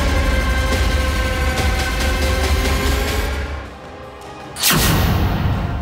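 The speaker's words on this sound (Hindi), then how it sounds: "बीच सड़क खुलेआम आतिशबाजी हो रही है" Loud, steady street music plays at an election road show in Meerut, then a sudden sharp firework bang bursts out close by in the middle of the road.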